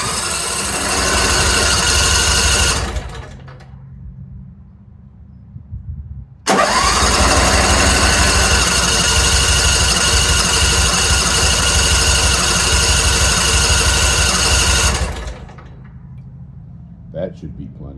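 A Briggs and Stratton small engine, running with no air filter, cranks and fires into a loud, close, steady roar, cuts out, then restarts and runs evenly for several seconds before dying away.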